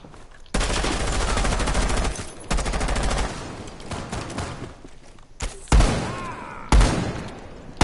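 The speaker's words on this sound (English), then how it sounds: "I'm just shooting both of them with my shotgun." Shotgun fire in Rainbow Six Siege, close and loud, coming in long dense volleys with brief gaps, then a few separate heavy blasts near the end.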